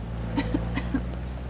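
A few short, soft coughs in quick succession over a steady low hum, fairly faint and close.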